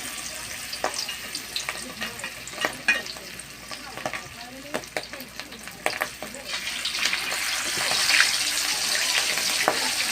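Bangus milkfish fries in hot oil, a steady close sizzle with scattered sharp pops and spatters that grows louder and hissier toward the end, with no voices over it.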